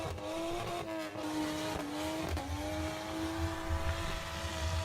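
A car doing a stay-at-home burnout holds a high, droning engine rev with tires squealing against pavement, briefly dipping and surging back, loud and continuous throughout.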